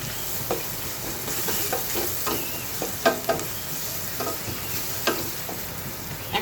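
Raw hilsa fish cooking directly in hot oil for a fish curry, with steady sizzling and frying crackle and several stirring scrapes and clinks throughout.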